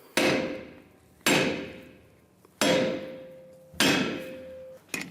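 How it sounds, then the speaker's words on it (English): Four sharp metallic hammer strikes on a rear brake drum of a Chevrolet Silverado 1500 land about a second apart, each ringing and fading out. A fifth strike starts at the very end. "And again with a hammer, give it a tap."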